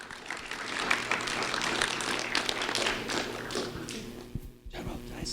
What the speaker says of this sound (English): a round of applause for Januel Garcia